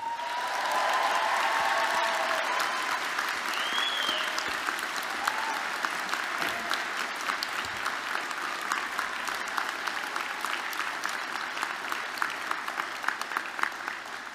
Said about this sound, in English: give your families, friends and supporters a huge round of applause